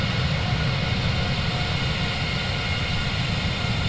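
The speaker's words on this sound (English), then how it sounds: "it sounds a lot more like the 747 now than it did before" Boeing 747-8F jet engines in Microsoft Flight Simulator 2020 roar as a steady, loud, broadband rush with a constant low rumble and no variation or talking.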